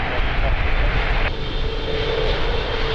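An airliner roars through an immediate takeoff on runway 02 at Lisbon Airport, a loud steady jet engine rumble with rushing air over the full few seconds and no voices.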